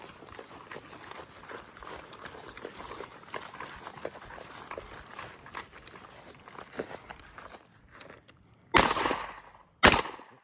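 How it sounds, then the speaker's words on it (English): At an outdoor run-and-gun competition, shotgun and pistol shots ring out at steel and clay targets, with movement and rustling first, then two sharp, loud bangs near the end. "You can shoot them all with your shotgun."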